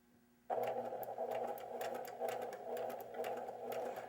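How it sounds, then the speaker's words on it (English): A sewing machine starts abruptly and runs steadily, its needle tapping in a rapid, even rhythm while stitching across a quilt seam intersection, close and moderately quiet. "Now when you're sewing over the intersection, you want to be sewing over the mark."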